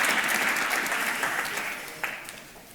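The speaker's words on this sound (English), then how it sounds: "An applause for Toopi Organics." Audience applause at a startup demo day, a dense steady clatter of clapping that swells early, then gradually thins and fades toward the end.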